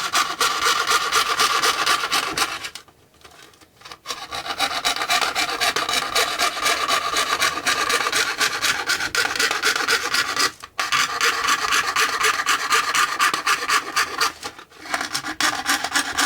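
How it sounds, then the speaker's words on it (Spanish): A plastic safety glasses lens being cut along a marked line, giving a loud, continuous rasping cut that runs steadily for long stretches, broken by a few short pauses. "Vamos recortando por la marca que hemos hecho,"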